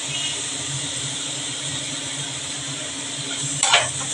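Mango pieces frying in oil in a pan for aam tel katla, a steady close hiss of sizzling with faint stirring underneath, a brief louder scrape or clatter near the end.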